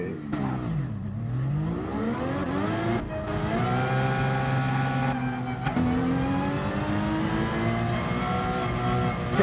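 A Porsche Carrera racing in GT Sport drones steadily at close range, its engine pitch sweeping down and then climbing and shifting through gears over continuous road noise, alone with no talking.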